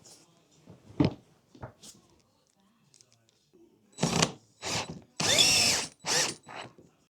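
Power drill driving bolts into a big and tall heavy-duty office chair during assembly, in several loud close bursts of whirring and ratcheting, each a second or less, with gaps between them.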